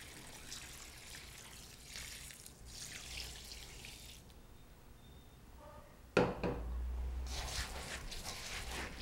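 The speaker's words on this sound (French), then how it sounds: "Maintenant, il faut rincer le riz." Rice is rinsed with water: after quieter handling, a tap bursts on and water pours and splashes steadily into a basin, close and moderately loud.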